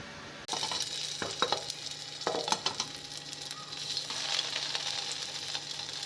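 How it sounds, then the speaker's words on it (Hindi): Potato tikki frying in oil, with a sudden onset of steady sizzling followed by a few sharp utensil clicks and scrapes, close and fairly quiet, and no speech. "माशाल्लाह ये रेडी हो गई हैं आलू वाली टिक्की तैयार। अब इसको करते हैं फ्राई।"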